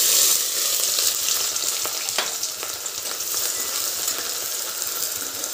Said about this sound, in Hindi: अब इसी तेल में डाल देंगे प्याज।